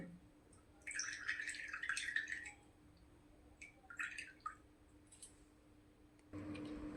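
Oily herbal hair liquid is pressed through a strainer, giving soft, close squelching drips in two short bursts, then a sudden low rustle near the end.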